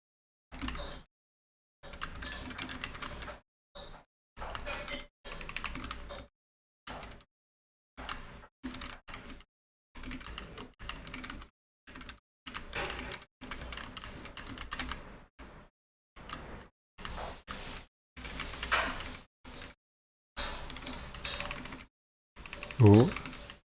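Typing on a computer keyboard during a Monkeytype test, bursts of rapid close key clicks broken by short silent gaps, steady throughout with a brief voice near the end.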